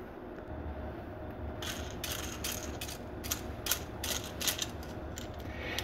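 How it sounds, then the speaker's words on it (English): Plastic spool bracket being threaded onto a Tronxy X5S 3D printer, a close series of rapid ratcheting clicks and creaks repeating over a few seconds. "So we're just going to thread this in here like this."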